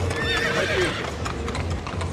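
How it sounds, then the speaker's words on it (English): Horses at a Trump rally clip-clop on pavement nearby, with a whinny early on among a loud crowd murmur; the hoof steps sound steady and close. "I like the horses."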